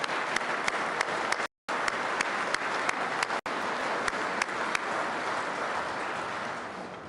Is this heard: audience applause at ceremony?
yes